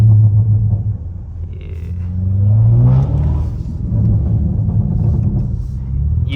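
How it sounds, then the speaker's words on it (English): A BMW G99 M5 fitted with downpipes on the highway: a loud, deep exhaust rumble that climbs and falls as the car pulls, with some rasp in the burbles, close and without talk. "Give y'all a couple burbles. Give y'all some pulls."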